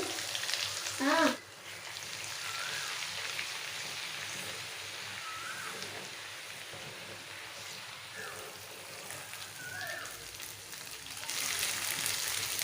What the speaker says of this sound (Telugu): ఈ అల్లం వెల్లుల్లి పేస్ట్ని పచ్చివాసన పోయేంత వరకు ఫ్రై చేసుకోవాలి